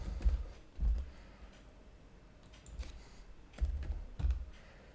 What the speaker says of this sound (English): Let's type in the longsword.